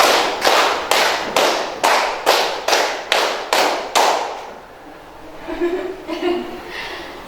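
Children in a classroom clapping in a rhythmic game, crisp sharp claps in a steady even beat, about ten in a row, followed by quieter chatter and laughter.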